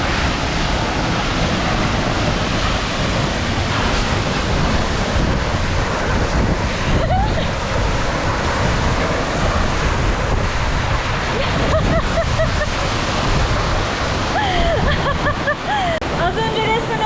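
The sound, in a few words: Sipi Falls waterfall in Uganda, close up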